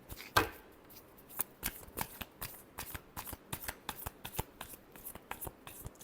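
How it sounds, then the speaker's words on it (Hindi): A deck of tarot cards being shuffled up close: a steady run of crisp riffling flutters and sharp card snaps repeating for about six seconds, with no talking. "Last shuffle."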